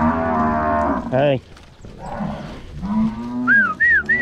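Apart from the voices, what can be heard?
Nelore cattle mooing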